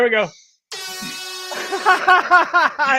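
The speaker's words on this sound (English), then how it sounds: "Air horn." A brief, loud blast of an air horn sound effect rings out after a short pause, then people start talking over its fading tail.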